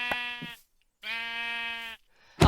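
Sheep in the video game Minecraft bleat clearly, one short bleat followed by a longer, sustained wavering bleat, close and alone with no talk.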